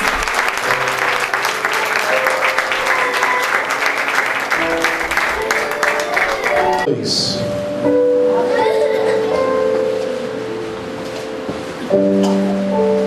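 A church congregation claps loudly in sustained, dense applause, while music with held organ or keyboard tones plays beneath and continues after the clapping thins out.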